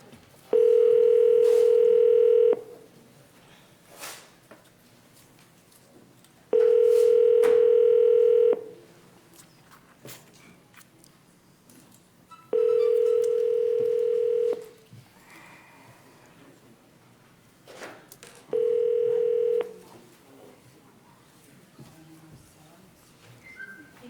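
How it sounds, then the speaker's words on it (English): A telephone dial tone sounds in four separate bursts of about two seconds each, with pauses and faint room noise between them, as a call is placed to a commissioner during a meeting. "give us just a minute to get Commissioner Taylor on the phone"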